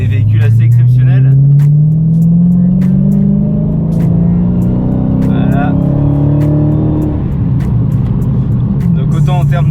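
A 2016 Dodge Challenger Hellcat with a supercharged engine of around 700 hp accelerates hard, a loud rising engine roar sweeping upward and then settling into a steady drone. Someone talks over it throughout.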